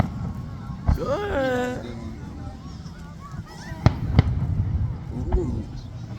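Outdoor Fourth of July fireworks go off, with a few sharp pops and cracks in the middle distance, one of them misfiring. People talk and honking noises carry on nearby.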